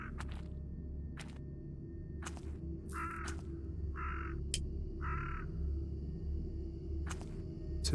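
Ravens give three short, rough caws at an even pace, set against a quiet, low ambient hum with scattered soft clicks.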